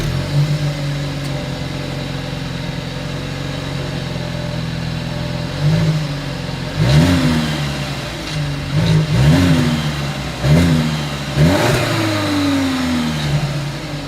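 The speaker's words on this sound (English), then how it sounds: "As always, here is that exhaust clip." Exhaust of a 2022 Volkswagen Passat idling steadily, then revved several times in short blips spaced a couple of seconds apart, each rising and falling back to idle, heard close with no talking.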